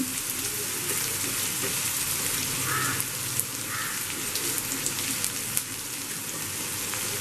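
Green chili and garlic sauté in hot oil for Kerala fish mappas, a steady dense sizzle and crackle that runs the whole time with a few soft spatters.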